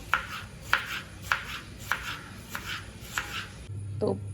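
Vegetables chopped on a board for a side dish: six evenly spaced knife strikes about half a second apart, close and fairly quiet, then a short low hum at the end.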